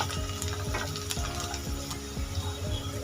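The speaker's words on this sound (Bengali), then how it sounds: "পেঁয়াজটা ভেজে নেব।" Chopped medium-sized onion frying in a pan for a mixed dal tadka, a steady loud sizzle with repeated stirring scrapes and clinks roughly every half second, no voices.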